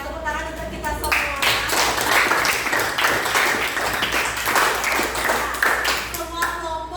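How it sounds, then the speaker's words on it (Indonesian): Classroom clapping for everyone after student group presentations in a Hindu religious education lesson, a steady burst of many hands lasting several seconds with voices audible over it. "Tepuk tangan untuk kita semua."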